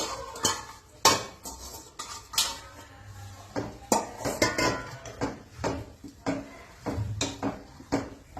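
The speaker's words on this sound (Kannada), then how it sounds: "ಇದಕ್ಕೀಗ ನಾನು ಇದು ಕುಂಬಳಕಾಯಿದು ತುರಿ ಹಾಕ್ತಾ ಇದ್ದೀನಿ" A utensil scrapes and knocks against a pot as grated ash gourd is stirred into melted jaggery, giving repeated rhythmic clanks and scrapes close up, with no talking.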